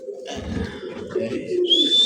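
White Indian Bombay pigeons give a soft, low cooing call up close, a brief throaty burble lasting about two seconds.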